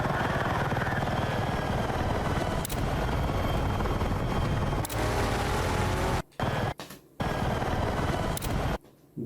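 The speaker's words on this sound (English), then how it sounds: "Let's take the chopper up." In the video game Battlefield 6, a helicopter roars with a loud, continuous rotor and engine wash. Brief cuts and a few sharp clicks interrupt the noise toward the end.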